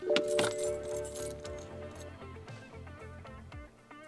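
Key jangling and clicking in the ignition of a BMW E90 as it is switched off, followed by a series of short, evenly spaced electronic chimes or beeps fading out over a few seconds, close and clear with no talk.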